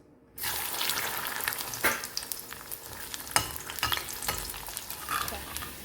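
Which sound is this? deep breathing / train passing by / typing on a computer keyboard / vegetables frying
vegetables frying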